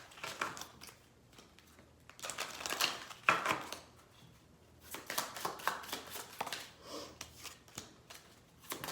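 Oracle cards from a love and romance angels deck being shuffled and drawn, with bursts of crisp riffling and flicking close by, separated by brief quieter pauses.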